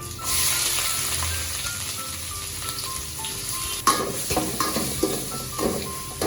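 Chopped onions dropped into hot oil with bay leaves, cardamom and cinnamon, giving a continuous close sizzle, followed by a burst of louder frying and utensil clinks as they are stirred.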